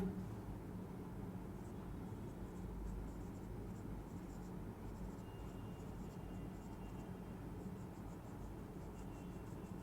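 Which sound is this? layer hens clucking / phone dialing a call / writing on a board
writing on a board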